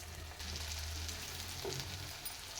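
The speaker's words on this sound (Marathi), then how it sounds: "याच पद्धतीने उरलेल्या वड्या तळून घेणार आहे." Colocasia leaf rolls (alu vadi) made with raw potato fry in hot oil, giving a soft, steady sizzle with faint crackles, quiet and continuous with no voices.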